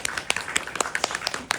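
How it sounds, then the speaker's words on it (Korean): Audience applause at a film screening talk marking a ten-thousand-viewer milestone, heard as a burst of scattered hand claps with sharp individual slaps over a soft wash of clapping, fairly close and steady. "박수 한번 부탁드리겠습니다"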